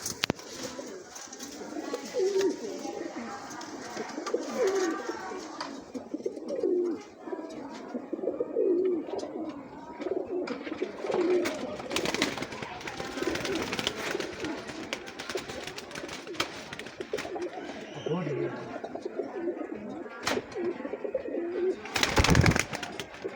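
Teddy pigeons coo repeatedly in low, rolling calls at a breeder's loft in Bhara Kahu, Islamabad, with overlapping birds close by and occasional sharp noises and rustling breaking in near the end.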